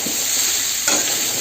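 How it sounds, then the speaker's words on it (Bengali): Papaya pieces frying in oil in a pan over medium-high heat, an even bright sizzle heard up close, swelling briefly partway through, with no talking. "এই যে ভাজা হচ্ছে।"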